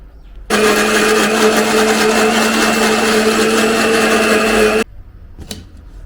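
A kitchen blender grinds tomatoes into gravy in one loud, steady whirring burst of about four seconds that starts and stops abruptly, with quiet before and after and a small clatter at the end.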